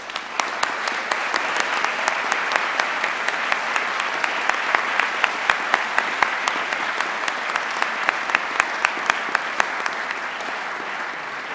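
Sustained applause from a ceremony audience honoring prize and award recipients at an honors convocation, dense and steady for the whole stretch with sharp individual claps standing out on top.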